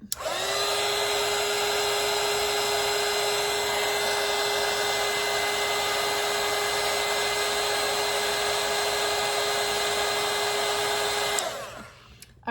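A hair dryer blows on watercolour paint for about eleven seconds, a loud, steady whine-and-rush at close range that cuts off abruptly near the end.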